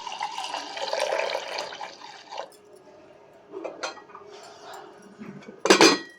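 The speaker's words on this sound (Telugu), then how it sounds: "రెండు గ్లాసులు కందిపప్పు అయితే తీసుకుని నీట్గా వాష్ చేసేసా" Toor dal (split pigeon peas) being washed by hand in water in a home kitchen, a soft continuous sloshing and rinsing for a few seconds, then sparse clinks and a sharp closing splash or clatter of the vessel.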